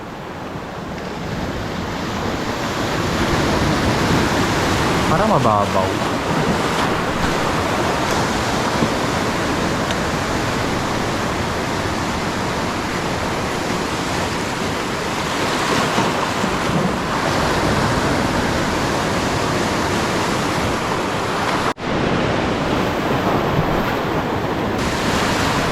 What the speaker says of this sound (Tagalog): May pisaan ng alon.